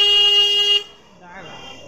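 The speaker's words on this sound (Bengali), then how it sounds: "পিছন থেকে আবার কি হর্ন মারছে।" From behind on a road near Sonarpur and Rajpur, a vehicle horn gives one loud, sustained blast of nearly a second, then cuts off as quieter road noise and a voice follow.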